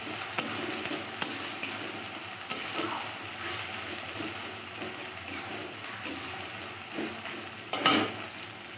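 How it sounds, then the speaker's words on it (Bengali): Potatoes fry gently in oil in a pan, giving a soft, continuous sizzle with occasional light clicks and scrapes of stirring. "আলুটা জাস্ট একটু হালকা ভাজা হবে।"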